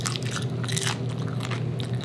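Close, crisp crunching as fresh raw spinach leaves are bitten and chewed, several crunchy bites in a row with no talking.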